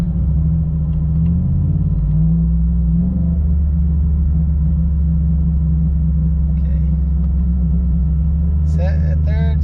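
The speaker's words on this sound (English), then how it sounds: "I brake boost it, the car develops boost" A turbocharged Ford F150 engine brake-boosting, with a loud steady low rumble that rises in pitch early on and holds, under a man's speech near the end.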